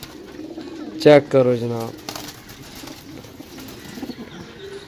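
Pigeons held for sale coo in a short, close, throaty burst that rises and falls for about a second, then fade to soft background sounds while someone talks.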